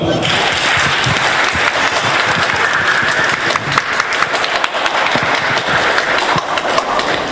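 Audience applause at a children's theatre performance event, a dense steady clapping from a crowd that fills the whole stretch, loud and continuous with a few voices faintly mixed in.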